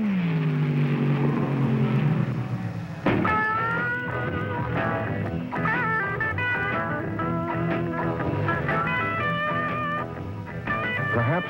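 1970s drag racing cars at full throttle: a loud, sustained engine roar with shifting, rising tones throughout, close and continuous, with no talking.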